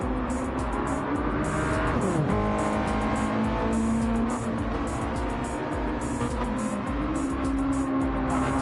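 Mazda Miata race car in a racing video game at the Nürburgring, its engine droning steadily and shifting pitch as it passes through a corner, loud and continuous with no talk.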